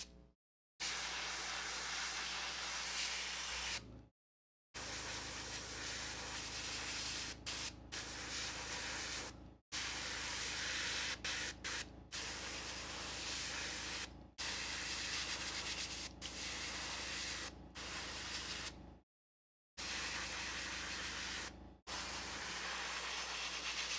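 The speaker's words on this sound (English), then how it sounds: "This airbrush needs like a supreme cleaning." An airbrush spraying paint in a touch-up pass: long bursts of steady, close hissing broken by brief silent gaps, fairly loud and without talking.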